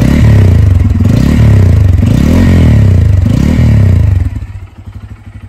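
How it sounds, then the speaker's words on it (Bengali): Motorcycle exhaust heard up close, a loud throbbing idle blipped with a few revs that rise and fall, then the engine shuts off and the sound dies away at the end. "এবং সেই সাথে এক্সজস্টের সাউন্ডটা।"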